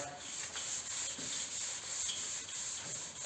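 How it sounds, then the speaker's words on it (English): Hand sanding of high build primer on a panel with fine-grit paper, a steady close scratchy rubbing of back-and-forth strokes that swells and dips rhythmically, with no talking. "so you sand your whole panel that way"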